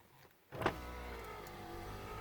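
Power window motor in a Nissan 300ZX Z31, heard from inside the car: a sharp click, then a steady, close whirring drone that runs to the end with no talking.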